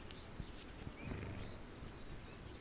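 Horse in a video game, faint hoof clip-clops with a brief whinny rising midway, quiet and distant over low background noise.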